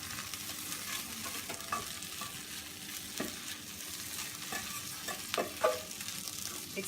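Spinach and chicken sizzle softly in a pan on residual heat, with a low steady fry broken by occasional stirring scrapes and light clinks, heard close and without talk.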